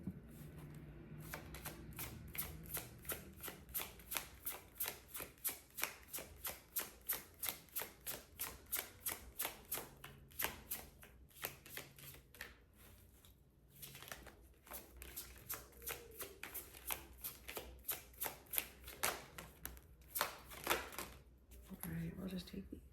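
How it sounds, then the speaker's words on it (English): A deck of cards riffled and shuffled repeatedly, crisp rapid flutters in bursts with short pauses, close and fairly quiet, with a few soft words between. "Shuffle it one more time."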